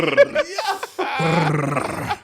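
A man vocally imitates a dog's growl, producing rough, throaty growling and whining sounds up close in a couple of short bursts followed by a longer sustained rumble.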